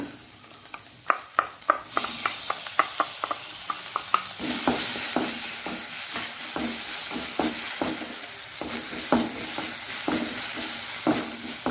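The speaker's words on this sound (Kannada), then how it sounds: "ಇಲ್ಲಿ ಸ್ವಲ್ಪ ಕರಿಬೇವಿನ ಸೊಪ್ಪು, ಇದು ಆಪ್ಷನಲ್, ಬೇಕಿದ್ರೆ ಹಾಕೊಳ್ಬೋದು. ಇನ್ನು ಈ ಟೊಮ್ಯಾಟೊವನ್ನು ಹಾಕೊಳ್ಳೋಣ." Tomatoes and curry leaves frying in oil in a pan, a steady sizzle punctuated by a quick series of sharp spatula scrapes and stirring clicks, close and clear without any voices.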